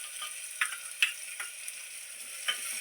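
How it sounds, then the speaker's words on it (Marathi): Onions go into hot oil with garlic paste and cumin, giving a steady, fairly quiet hiss and sizzle with a few soft crackles and spatters and no talking. "आता त्याच्यात घालूया आपण कांदे"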